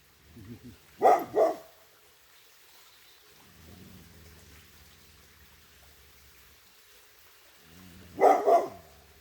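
A dog barking at a squirrel: two short double barks several seconds apart, fairly close and loud, with quiet background between and a faint voice in the middle.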